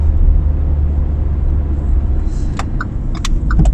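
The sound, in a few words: small microcar driving along a bike path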